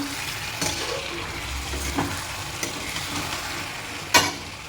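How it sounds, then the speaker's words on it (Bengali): Chicken frying in a pan and being stirred, with a steady close sizzle and a few sharp scrapes and knocks of the spoon, the last one louder. "এরপর দেখি চিকেনটা ভালো করে একবার নাড়িয়ে নেব।"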